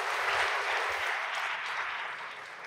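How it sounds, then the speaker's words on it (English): Steady applause from a church congregation during a Sunday service at St. Raymond, Philadelphia, an even wash of clapping with some low thumps early on. "Give our awesome God a round of applause,"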